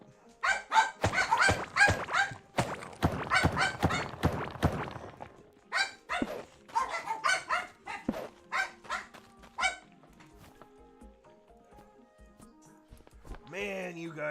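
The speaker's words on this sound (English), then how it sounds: "Man, you guys can bark." Several dogs bark in rapid, loud, close volleys, overlapping at first and then thinning into scattered single barks and yips, with a short whine near the end.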